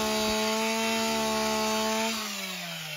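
A chainsaw runs at a steady high whine while cutting through residential roofing material for vertical ventilation, then its pitch drops as the cut finishes, loud and close with no talking.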